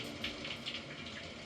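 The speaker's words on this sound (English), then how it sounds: "I can even play it in the shower" Steady broadband hiss of shower water running continuously, fairly close, with faint splashing bursts and no voices.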